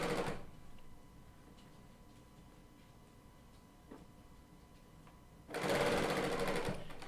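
A Bernina L890 sewing machine calibrates with a quiet, steady mechanical hum and faint ticks, bracketed by louder bursts of whirring motor noise at the start and near the end.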